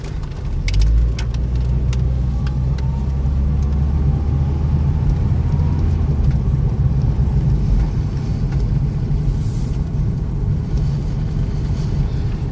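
A 1987 Volkswagen Jetta with an automatic gearbox drives around the block, its engine giving a steady low rumble and road drone from inside the car with no voices.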